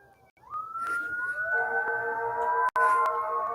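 An ambulance siren wails as the ambulance drives away, rising and holding a steady tone nearby, with a short break before it continues.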